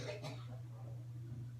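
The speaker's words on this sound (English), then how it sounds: "Another cough, like 3-4 coughs in a row." A person coughing indoors, a short burst of a few quick coughs up front before trailing off, faint over a steady low electrical hum.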